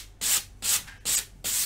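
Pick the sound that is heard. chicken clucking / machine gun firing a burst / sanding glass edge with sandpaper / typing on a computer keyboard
sanding glass edge with sandpaper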